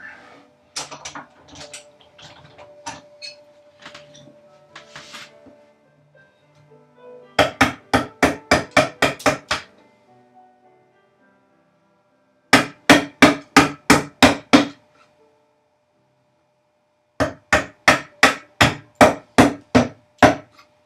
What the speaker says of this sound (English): And go with my larger chisel